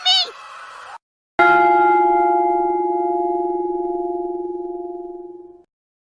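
A single bright bell tone from a golden bell object in a word-building cartoon game rings out clearly after a short gap and sustains as a pure ringing note that slowly fades over several seconds.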